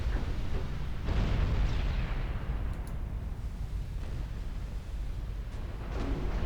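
Battleship secondary guns fire in Ultimate Admiral Dreadnoughts, a steady rumbling barrage of distant booms that rolls on continuously, with a heavier burst near the start.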